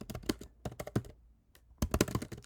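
Code being typed on a computer keyboard in close, crisp bursts of rapid clicks, separated by a brief pause.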